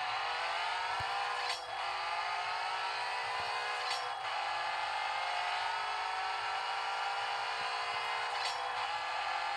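Ferrari F12 Berlinetta naturally aspirated engine racing in the CSR2 mobile game, a sustained high-revving engine whine climbing steadily with brief gear-shift dips, loud and continuous with game sounds.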